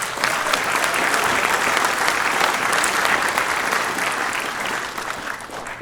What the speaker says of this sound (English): Let's have another round of applause for our jazz group.